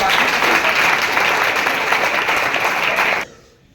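A crowd claps steadily and loudly for a few seconds, then the applause stops abruptly, leaving quiet.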